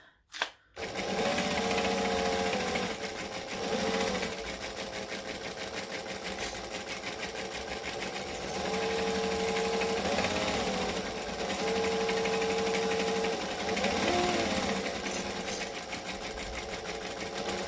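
A sewing machine stitches fabric up close during a sewing tutorial, running in a loud, continuous rapid whir with brief slowdowns and short pauses between bursts.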